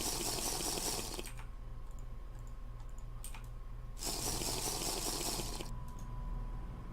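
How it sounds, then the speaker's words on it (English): Gulping water from a ceramic jug in Minecraft TerraFirmaPunk, two separate bursts of liquid sloshing and swallowing a couple of seconds apart, with quiet game ambience between them. "maybe I have to drink all my water"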